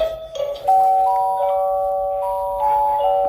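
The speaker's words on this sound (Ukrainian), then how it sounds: "і різні веселі мелодії." A baby pull-ring toy plays cheerful electronic melodies, bright sustained tones stepping through a simple tune, close and fairly loud with no talking.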